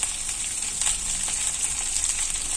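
Onion paste deep frying in hot oil for a fish curry gives a steady, close hiss of sizzling with no talk over it.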